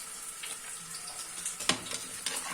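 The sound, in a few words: tadka tempering sizzling in pan for goat head curry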